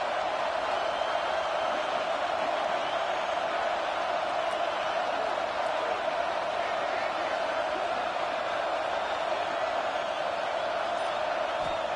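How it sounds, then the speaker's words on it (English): Stadium crowd noise in an American football video game, a dense, constant roar of spectators sustained evenly throughout, with commentary voices running over it. "This crowd ready to make its presence known."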